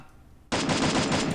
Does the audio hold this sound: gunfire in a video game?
yes